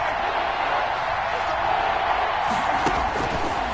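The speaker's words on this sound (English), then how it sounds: "the crowd getting into it as we come up on a big 3rd down" A stadium crowd roars at a football game against the Eagles ahead of a big third down, a dense, steady wash of cheering noise that stays loud throughout.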